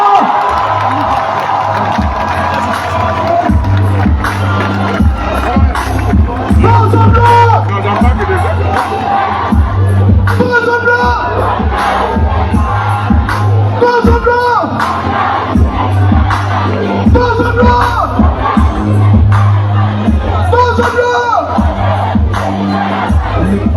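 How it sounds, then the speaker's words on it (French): A large crowd at a presidential speech in Makokou cheers, whoops and shouts loudly and continuously, with applause mixed into the dense roar of voices and a steady low rumble throughout. "Maximum d'applaudissements, mesdames et messieurs."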